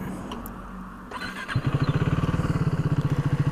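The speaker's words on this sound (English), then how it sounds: "That's the big thumping engine behind you." A KTM Duke 390 single-cylinder motorcycle engine cranks and catches, then settles into a loud, close, rapid thumping idle with an even pulsing rhythm.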